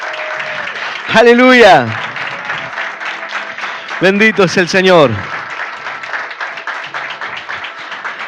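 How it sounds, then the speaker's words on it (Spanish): Church congregation applauding in bursts of dense clapping between loud spoken exclamations from a leader, with scattered claps continuing under and after the talk. "Dale un fuerte aplauso al Señor."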